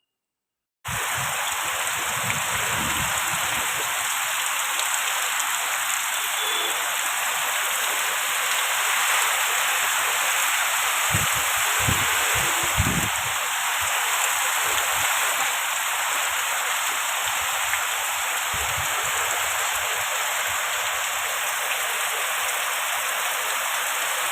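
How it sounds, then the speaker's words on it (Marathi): Heavy monsoon rain with wind in a Konkan village, a dense, steady hiss of downpour running unbroken for the whole stretch, with a few low thumps and gusts underneath and no voices. "पाऊस बघितला तुम्ही किती आहे वारा पाऊस"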